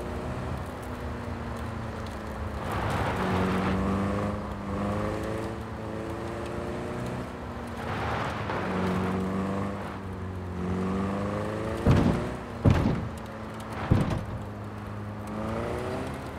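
Car engine in Cyberpunk 2077 droning steadily with rising and falling revs as the vehicle is driven, with a few sharp knocks or bumps near the end.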